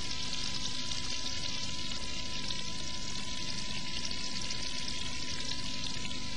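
A slice of ham sizzles and fries in hot fat in a pan beside a steak, a steady close crackle throughout with no voices.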